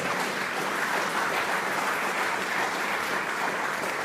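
A church congregation applauds steadily, a dense, even wash of clapping that holds at the same loudness throughout with no voices over it.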